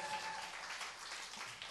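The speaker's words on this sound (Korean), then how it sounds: "박수 한번 해주세요" Church congregation applauding during a Sunday service, a dense steady wash of clapping that fills the short moment without a break, fairly even in loudness and with no voices over it.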